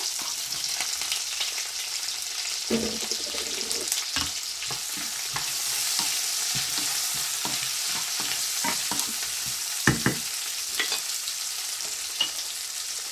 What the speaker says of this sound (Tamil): இதுக்குள்ள நாங்கள் வெட்டி வச்ச வெங்காயத்தை போட போகிறோம்